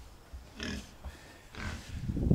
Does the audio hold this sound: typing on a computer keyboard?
no